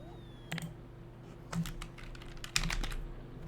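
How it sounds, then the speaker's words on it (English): Several quick clusters of keystrokes on a computer keyboard, crisp clicks in short bursts separated by pauses, close and moderately loud over a faint steady hum. "I should have clicked on search before I started typing"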